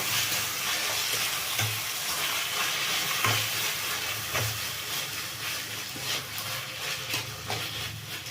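Tomatoes fry in oil with onions for an egg gravy, a steady close sizzle with occasional stirring scrapes and taps throughout.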